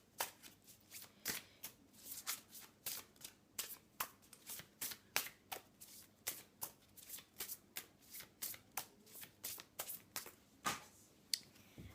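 Tarot cards are shuffled and drawn in a quiet room, with a long run of crisp, evenly spaced riffling snaps close up, and no talk.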